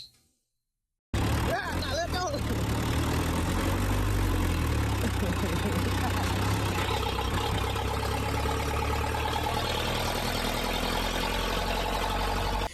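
A large stripped-down scrap truck's engine idles with a rough, steady low rumble after a brief silence, close and continuous, with people talking over it.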